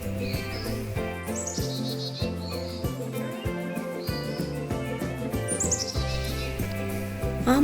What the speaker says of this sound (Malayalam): ഒരുപാട് പക്ഷികളുടെ ഒച്ചകൾ ഇങ്ങനെ കേട്ടുകൊണ്ടേയിരിക്കുക.